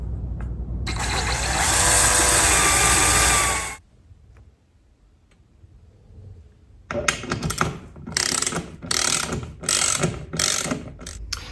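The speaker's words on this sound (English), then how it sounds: "I'm going to drill a pilot hole" A power drill whines steadily for a few seconds drilling a pilot hole in a wall, stops, then a series of rapid ratcheting clicks follows in short bursts.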